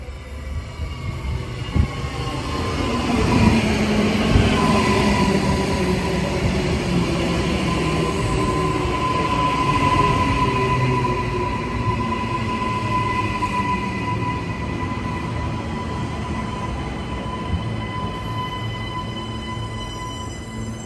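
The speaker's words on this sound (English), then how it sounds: "Train arriving on platform 1 is the Brisbane City and Springfield Central train running express from Northgate to Bowen Hills" A Brisbane City and Springfield Central train pulls into a platform in Brisbane. A loud rumble swells and holds, with faint wheel squeal and tones, and no voices.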